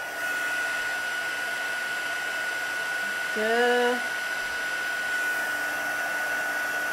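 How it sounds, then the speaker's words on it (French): An embossing heat tool, used for heat embossing in card crafting, runs with a steady, even blowing whir throughout, close and constant, while a faint voice is briefly heard in the background. "je suis en train de faire chauffer mon fer"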